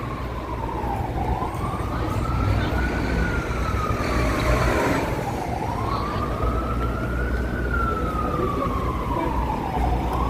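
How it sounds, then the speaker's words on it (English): A New York City emergency vehicle siren wails in slow rising and falling sweeps over loud street traffic on a hot summer day in Manhattan, prominent and continuous throughout. "We were missing sirens. Not anymore."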